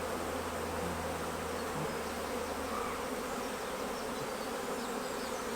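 A dense, steady hum of many honey bees fills the air at the hive while frames with queen cells are being cleared of bees, close and continuous throughout.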